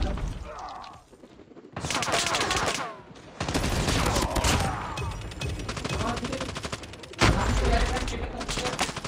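Call of Duty Mobile team deathmatch gunfire: rapid automatic bursts rattle almost without a break, loud and close, with a few heavier thumps and impacts mixed in.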